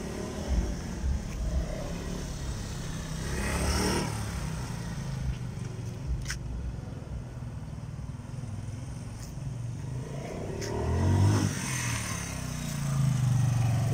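A Kingston 150 motorcycle with a 180 cc engine idles and revs in short bursts, with the engine note rising and falling at moderate distance against background noise.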